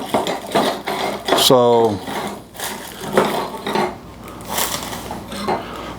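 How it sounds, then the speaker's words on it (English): Metal chisels from a large budget chisel set clatter and clink together in a quick burst of bright metallic knocks, close by, with brief talk around them. "a humongous set of chisels"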